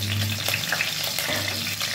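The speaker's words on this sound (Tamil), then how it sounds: "இப்போ நம்ம மீதி எடுத்து வச்சுருக்க இந்த ஏலக்காய் பட்டை கிராம்பெலாம் போட்டு பிரியாணி இலை ஒரு 3." Whole cardamom, cinnamon, cloves and bay leaves frying in hot oil for mutton biryani, a close, steady crackling sizzle with no talking.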